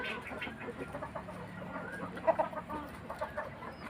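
Several chickens cluck and chatter close by in a farmyard, irregular soft clucks and a few louder squawks over low background noise.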